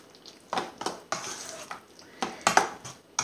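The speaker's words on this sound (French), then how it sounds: "Et on remue." Small chopped salmon pieces are stirred in a pan, with quiet, irregular scrapes and clinks of a utensil against the metal, close and sparse, with no voices.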